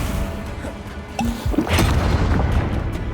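Confringo blasting spell in Hogwarts Legacy, a sharp cast followed by a heavy booming explosion with a burst of crackling debris, then a lingering low rumble, no talking.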